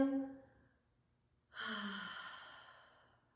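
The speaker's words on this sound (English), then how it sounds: "Exhale." A long, audible exhale through the nose at the close of a guided breathing practice, rising suddenly after a brief pause and fading slowly over about two seconds, close and alone.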